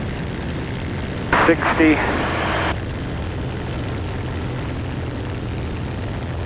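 Bonanza airplane engine at full power on the takeoff roll, a steady, loud propeller drone filling the cabin, with a brief spoken callout over it.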